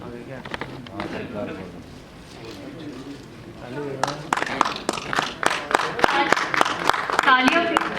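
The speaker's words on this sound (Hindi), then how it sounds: "A big round of applause, my dear friend." Applause from the audience at a fashion and media awards ceremony, with scattered claps at first that swell into a dense, rhythmic round of clapping, while someone talks loudly over it on a microphone.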